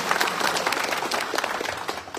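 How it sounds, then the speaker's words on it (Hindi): A crowd at a political meeting in Haflong, Dima Hasao, claps steadily and densely for the attendees, a continuous patter of many hands at moderate loudness. "इसके लिए वो लोग के लिए भी एक बार फिर से ताली बनता है"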